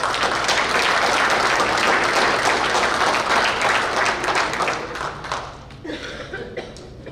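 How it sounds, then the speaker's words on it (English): A banquet audience at an award night gives a full round of applause, dense and loud clapping for several seconds that thins and fades toward the end. "So give yourself a big round of applause."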